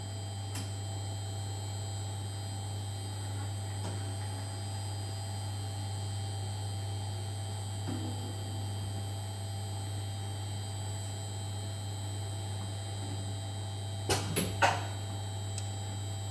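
An MLD 325 dosing machine runs a scale test, giving a steady electrical hum throughout, with a couple of brief mechanical knocks as a cylinder presses on the balance near the end.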